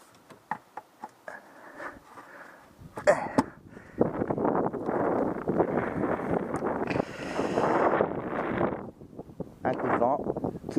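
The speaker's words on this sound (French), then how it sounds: "Un coup de vent qui est plutôt frais en plus" A cool, fresh gust of wind buffets the microphone outdoors near a Renault Super 5 on a chilly morning, arriving in rough, loud rushing bursts that rise and fall for several seconds.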